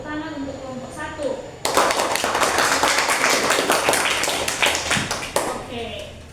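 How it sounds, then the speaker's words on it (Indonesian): A classroom of students claps for a student group after its presentation, dense broadband applause starting abruptly and running steadily for several seconds, with a voice speaking briefly before it begins. "tepuk tangan untuk kelompok 1"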